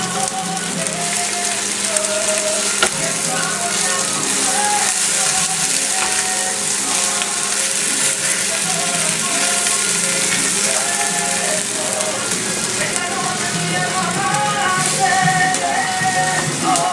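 Eggs frying for chilaquiles in a home kitchen pan, a steady dense sizzle like rain that holds at an even level for the whole stretch with no talk over it.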